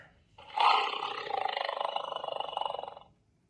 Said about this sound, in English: tiger, Tiger.